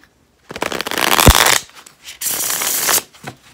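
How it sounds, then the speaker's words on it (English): Tarot cards riffled and shuffled in two quick bursts, a crisp fluttering rush with a soft tap between, close and fairly loud. "let's give this a shuffle"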